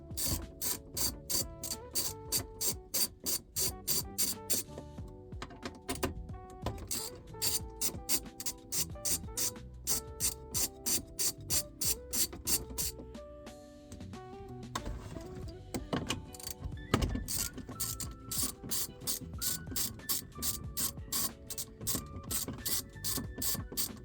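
A ratchet wrench clicks rapidly and continuously while backing bolts out inside a Toyota RAV4 during a head unit install, the fast pawl ticking close by with a brief pause midway and no talking.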